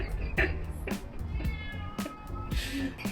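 A cat meows several times in short bursts amid clattering household noises and faint voices nearby.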